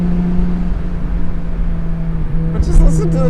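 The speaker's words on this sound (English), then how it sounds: "But just listen to the turbo noises." Turbocharged engine of a 500 hp Nissan 240SX with a GT-R engine swap, a steady low drone with a high whine, then a few sharp hissing flutters near the end.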